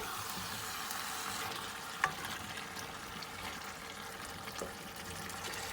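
Aloo keema, potatoes with minced meat, simmering uncovered in a pan, giving a soft, steady sizzle and bubbling at low level, with a couple of faint utensil clinks.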